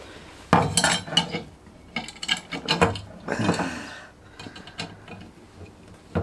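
Metal clinks and rattles as a small bolt and washer are fitted to fix the guide rods of an Aldi router onto its guide plate, a series of close, irregular clicks and taps with no talking.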